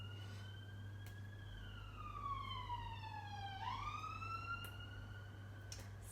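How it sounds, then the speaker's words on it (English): A faint wailing siren rises and falls slowly in the distance over a low steady hum, with no talking. "Sirens are going mad today."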